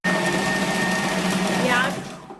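An electric grinder whirs loudly while grinding onion and coriander leaves for kebabs, a steady high motor drone with churning texture that rises briefly near the end, then winds down as it switches off.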